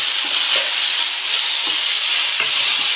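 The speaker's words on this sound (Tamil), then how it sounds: "இதை நல்லா கிளறி விடணும்" Potato fry with garam masala sizzles in a pan while being stirred, a bright hissing bed of frying with several light scraping strokes of a spatula, fairly close and without speech.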